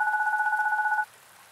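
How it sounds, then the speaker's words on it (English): A phone in a hallway setting rings with a rapid warbling two-tone trill, loud and close, lasting about a second before stopping. "Just then, my phone started ringing."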